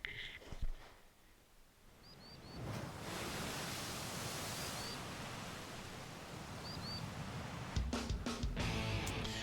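Rolling ocean waves wash in a steady broad roar in the video game 428 as a ship sails across the sea, with a few faint high chirps above the surge.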